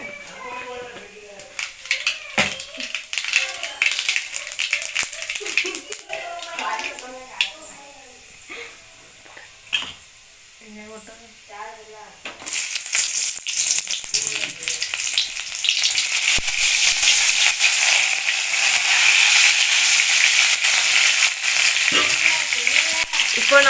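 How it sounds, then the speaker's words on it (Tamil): Mustard seeds spluttering in a little hot oil in a kadai, the frying turning into a loud, dense crackling hiss in the second half, with talking over the quieter start. "ஒரு வடச்சட்டியில் கொஞ்சமாக எண்ணெய் சேர்த்துருக்கோம் எண்ணெய் கலந்ததும் கடுகு போட்டுக்கிறேன்"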